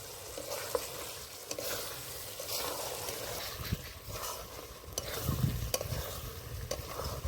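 Small pieces of mutton stirring and frying in a pan for ghugni, a steady close sizzle with scraping stir strokes and occasional louder clanks, growing busier near the end.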